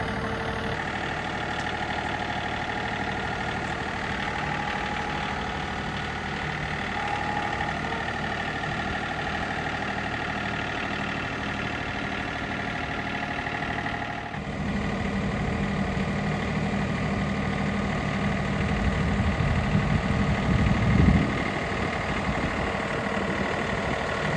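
A heavy tractor engine idles steadily with a low, continuous rumble and drone, growing slightly rougher and louder toward the end, on a pig farm.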